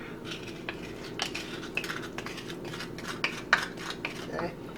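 Spoon scraping and clinking against a pot while palm sugar is stirred into Thai green curry, close and light, in irregular taps.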